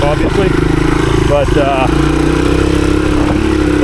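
A 1983 Honda XR200R dirt bike cruises through wooded trail in 4th gear, its steady mid-pitched engine drone running continuously and close under a rider's talk.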